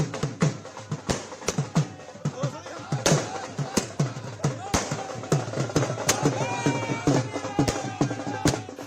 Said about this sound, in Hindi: कहीं आतिशबाजी का दौर चल पड़ा है